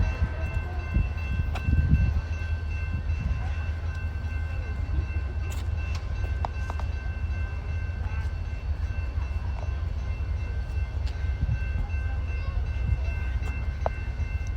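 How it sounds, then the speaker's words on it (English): An Amtrak passenger train pulls into the station at Ardmore, Oklahoma, with a steady low rumble of wheels and cars rolling past, heard from the platform, with a few faint voices. "here's the Amtrak's train coming in."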